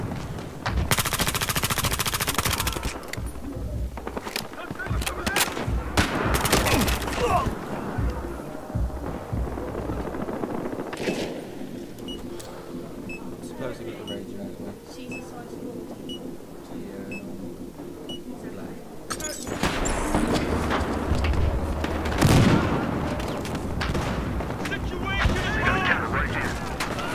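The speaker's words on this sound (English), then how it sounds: "taking heavy fire!" Heavy gunfire rattles in a Battlefield Hardline match, with bursts of automatic fire, scattered shots and occasional beeps in a loud, dense battle mix that keeps going across the whole stretch, rising again toward the end.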